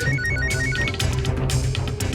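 A telephone ringing in a house, a repeating electronic ringtone pattern of short tonal pulses over a steady background, with no voices.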